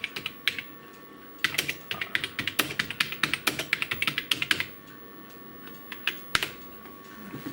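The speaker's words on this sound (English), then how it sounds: "Some of that is me hitting the wrong keys." Typing on a Tandy 1000HX computer keyboard: bursts of crisp, close key clacks in quick irregular runs, pausing around five seconds, then a few scattered taps.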